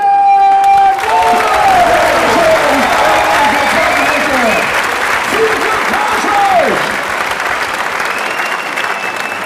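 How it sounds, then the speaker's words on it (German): A large audience gives a loud round of applause and some cheering for a performer at a comedy or spoken-word show, while a voice over a PA and musical tones sound over the clapping before it gradually thins. "Macht einen riesigen Applaus für Thorsten!"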